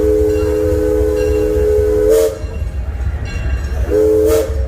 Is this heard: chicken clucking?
no